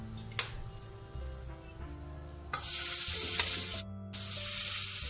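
Onions sizzle in hot butter and oil for pav bhaji, first a soft steady crackle with a few stirring clicks, then a loud bright sizzle that surges as they hit the pan, briefly drops out, and resumes strongly.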